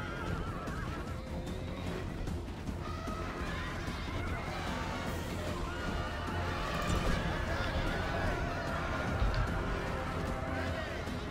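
Horses neigh amid a Rome: Total War battle where cavalry faces elephants, with galloping, clatter and crowd noise in a dense, continuous din over the whole stretch, mid-distance rather than close.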